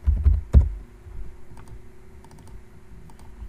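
Fingers type on a computer keyboard while entering spreadsheet data. A couple of heavy key thumps come first, then softer, sparse clicks tap along quietly.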